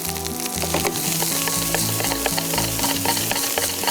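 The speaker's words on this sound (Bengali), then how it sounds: "এই ভাজা ভাজাটাই হচ্ছে ফ্রাইড রাইসের মূল জিনিস" Masala beef egg fried rice with coriander leaves sizzles loudly in a pan while being stirred and tossed, with steady crackling frying and repeated scraping stirs throughout and no talking.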